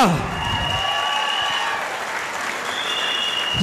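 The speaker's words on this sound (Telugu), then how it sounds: "ఒకసారి సలీం సార్ గ్రాండ్ క్లాప్స్ జోరుగా." A seated crowd at a boot camp gathering claps loudly for Saleem sir, a dense sustained burst of applause that continues for the full stretch, with voices mixed in.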